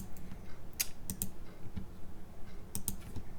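Computer keyboard keystrokes during embroidery digitizing software work, soft irregular taps with a few sharper pairs of clicks, close and quiet, with no talking.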